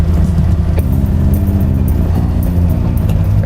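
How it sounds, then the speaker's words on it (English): A classic Shelby car runs on the road, its engine a steady, loud low rumble with a continuous throaty drone and a few faint light clicks above it. "Rick, what do you say we take the Shelby out on the road?"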